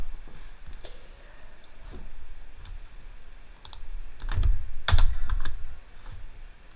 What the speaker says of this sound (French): il faut que je tape Instagram